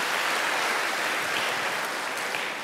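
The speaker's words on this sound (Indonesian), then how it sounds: "Beri tepuk tangan untuk Tuhan Yesus." A church congregation applauds during a worship service, dense sustained clapping from many hands that fills the room evenly from start to finish.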